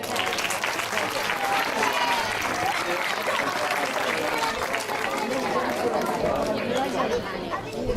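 A festival crowd applauds in a dense, steady wash of clapping that stays loud throughout, with chatter and occasional shouts mixed in.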